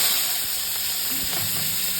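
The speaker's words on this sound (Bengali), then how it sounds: "মাছটা ভেজে নেব।" Fish frying in hot oil in a wok gives a steady, loud, dense sizzle that runs unbroken throughout.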